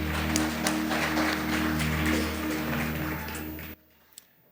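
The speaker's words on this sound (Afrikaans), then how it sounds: "Kom klap vir die band, lekker hande." Church congregation applauding a worship band, a steady wash of clapping that stops abruptly, followed by near silence with one small knock.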